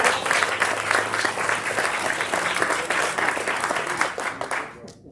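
A town hall audience claps for civilian service award recipients, a loud, brisk burst of applause that stays strong for several seconds before tapering off and stopping near the end.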